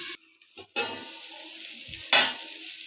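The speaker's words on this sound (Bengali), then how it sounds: "দেখো, আমি বারবার ঢাকনা খুলে নাড়াচাড়া করে দিয়েছি।" Fresh flat beans cooking in a covered pan give a soft sizzle, broken by a few brief knocks and scrapes as the lid comes off and they are stirred.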